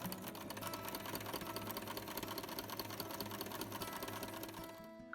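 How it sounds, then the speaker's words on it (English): A sewing machine stitches journal pages together, giving a fast, even rattling run of needle strokes that stays close and steady for several seconds before stopping. "I'm going to stitch it together. And right after, I'm going to stitch the pocket."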